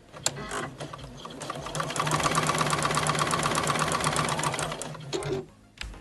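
A sewing machine stitches small fabric scraps with a quarter-inch seam and tiny 1.6 stitch length, a steady rapid mechanical whir that runs continuously for several seconds, close and fairly loud, with a brief pause near the end.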